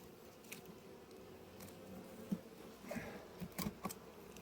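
Wasps and bees buzz around an apiary hive, faint, intermittent buzzes and brief close passes scattered over a quiet background, with a few sharper flicks near the end.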